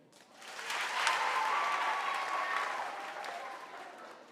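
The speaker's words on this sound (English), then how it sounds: "give a very big hand clap for QFM" Audience at a high school mentorship program at St Katherine SS in Lira applauds steadily for about four seconds, a dense wash of clapping that swells early and slowly fades near the end.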